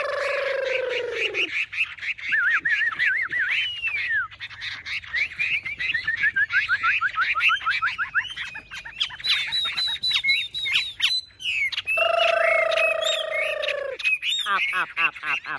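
A tame Chinese hwamei songbird sings a confident contest song while perched on a hand, pouring out loud, varied whistled phrases and rapid trills, with breaks and harsh squawking calls mixed in.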